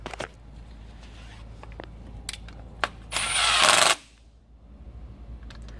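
A power tool runs in one short burst of about a second while tightening injector hold-down bolts on a Volvo D13 diesel engine, with a few faint clicks and metallic taps before it and a low shop hum throughout.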